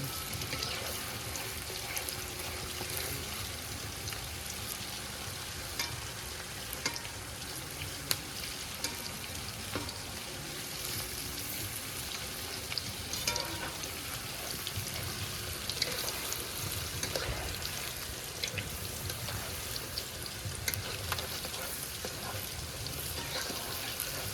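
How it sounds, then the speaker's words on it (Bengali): Five pieces of chicken pakora fry in very hot oil, producing a dense, continuous sizzle and bubbling crackle that stays loud and even throughout. "তেলটা ভালোই গরম আছে না এখন, ভালো তাড়াতাড়ি হয়ে যাবে। একটা করে দিচ্ছি 5 পিস।"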